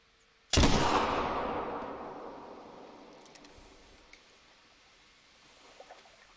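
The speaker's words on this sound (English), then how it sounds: "I think I can make this shot" Single loud rifle shot fired at long range outdoors in cold weather, about ten degrees, with a sharp crack followed by a long rolling echo that fades slowly over several seconds.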